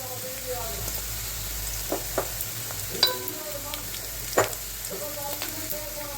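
Onions sauté in a pan for a curry leaf and eggplant kuzhambu, a low steady sizzle broken by a few sharp spatula clicks and taps against the pan at close range.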